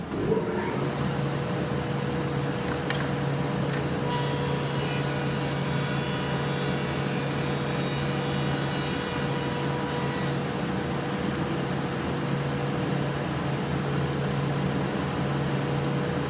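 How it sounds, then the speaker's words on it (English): An industrial wood planer's main motor runs at a steady, loud hum with a constant whine, and a brighter high-pitched machine tone kicks in partway through and then fades back. "So now you hit the main motor button."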